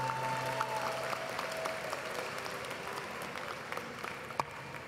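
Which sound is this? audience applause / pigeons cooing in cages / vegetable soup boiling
audience applause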